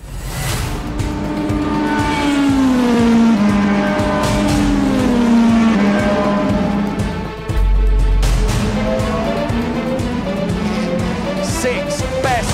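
Race cars in a Mercedes-AMG sim racing video game final, engines revving loudly and continuously with rising and falling gear shifts, tire squeal and skidding, several cars close together with a brief drop in sound midway.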